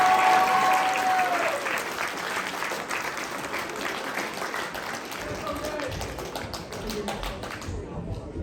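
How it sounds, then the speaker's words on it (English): An audience applauds at a middle and high school holiday performance, steady dense clapping sustained for about eight seconds before cutting off, with a voice briefly audible at the start. "At the same time, with a round of applause"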